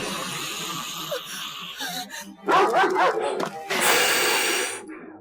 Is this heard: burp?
no